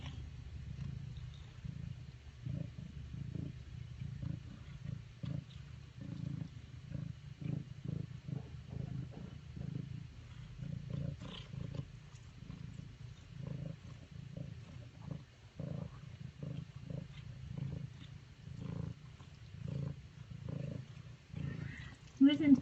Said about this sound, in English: Isn't that purring?